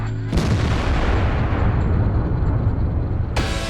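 A single heavy cannon shot from the T26E4 Super Pershing tank in World of Tanks booms out loud and close, its blast and rumbling tail filling the clip before a second shot begins at the end.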